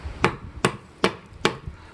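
Four sharp, evenly spaced chops from a Kubey KU160 D2 steel hunting knife striking a surface, each a crisp close impact about half a second apart.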